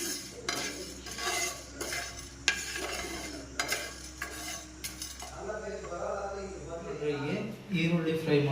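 Cumin, fennel and black peppercorns dry-roast in a pan for a restaurant-style pepper chicken dish. A spatula scrapes and clinks against the metal in irregular strokes over a light crackle, while a voice talks throughout.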